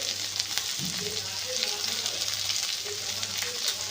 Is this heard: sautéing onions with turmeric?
yes